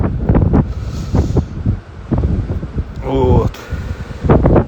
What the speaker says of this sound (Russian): И если сейчас опять ветер, как у нас ветер свистит, он так в зависимости от направления.